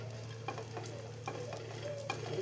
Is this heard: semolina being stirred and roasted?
yes